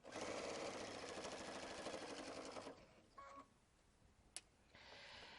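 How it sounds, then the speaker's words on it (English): A sewing machine stitches binding onto a quilt panel, a fast close rattling hum for about three seconds, then stopping with a few faint clicks and a sharp tick as the automated pivot sets the needle down and raises the foot. "with the automated pivot the needle will finish in the down position and the foot will come up"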